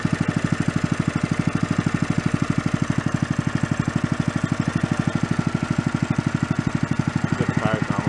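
A go kart engine from a closed amusement park idles close by with a fast, steady pulsing chug that stays even throughout, loud and unbroken, with a faint rise in the final second.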